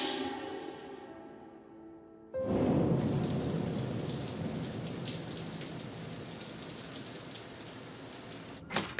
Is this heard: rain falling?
yes